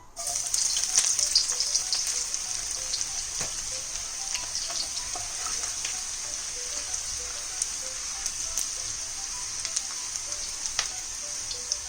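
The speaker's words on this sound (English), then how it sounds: "Now the oil is hot, I will add in the chopped garlic cloves." Garlic sizzling steadily in hot oil, a bright continuous crackle with scattered small pops, close and unbroken throughout.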